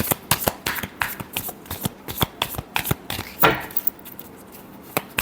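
A deck of tarot cards is shuffled by hand close up, giving a quick series of crisp riffling flaps and taps in irregular bursts, with one longer riffle near the middle.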